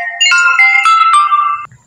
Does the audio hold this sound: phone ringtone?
yes